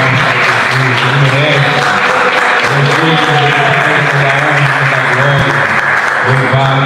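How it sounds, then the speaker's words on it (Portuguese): Church congregation clapping in praise, a loud steady wash of applause from a packed room, with a voice and low instrumental tones continuing underneath. "Uma salva de palmas para Jesus."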